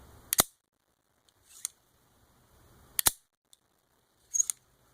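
Pro-Tech Tantilla out-the-front automatic knife, a handful of sharp, close metallic snaps spaced apart as the blade fires out and retracts in a quiet room.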